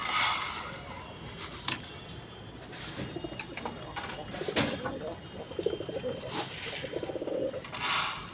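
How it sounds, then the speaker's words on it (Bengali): Hungry pigeons coo in low, repeated throaty calls, fairly close, with other small bird noises and occasional sharp knocks; a voice is heard faintly in the background. "তার জন্য আমার কবুতর আছে খিদায় পাগল হয়ে গেছে।"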